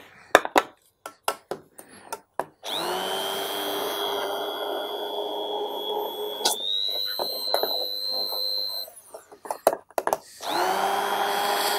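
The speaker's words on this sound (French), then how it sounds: "Hop, un petit coup de mixeur." Immersion blender whirring steadily in a raspberry cremeux insert, preceded and followed by clattering utensil taps, its pitch shifting briefly as the blade moves in the mixture.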